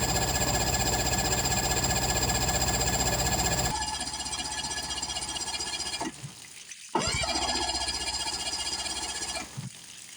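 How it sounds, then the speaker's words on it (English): A small outboard engine on a plywood skiff churns and rattles steadily, cutting out briefly twice before resuming, loud and close with no voices. "then tried cranking the engine"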